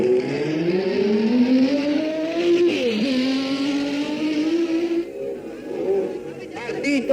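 Racing cars at the 1965 Targa Florio, including a Sprite, a Ford and an Alpine, roar past as a sustained engine drone that rises and shifts pitch, with an announcer talking over it.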